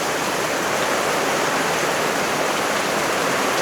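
Steady heavy rain pours during a monsoon storm in Boracay, a dense, continuous broadband hiss like rushing water with no breaks, loud and close.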